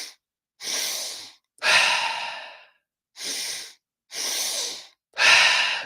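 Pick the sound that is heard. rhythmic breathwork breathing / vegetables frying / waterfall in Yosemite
rhythmic breathwork breathing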